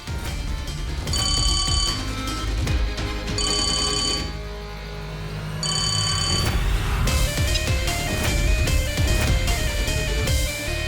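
A telephone rings in repeated electronic bursts, loud and close, with brief pauses between rings over a dramatic music score.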